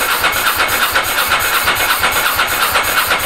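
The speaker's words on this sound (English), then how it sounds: "It might not go out. It might not have enough pressure just cranking over." Ducati ST4 motorcycle engine cranking on its electric starter without firing, a steady, loud rhythmic churn of starter and compression pulses that runs continuously, with no voices.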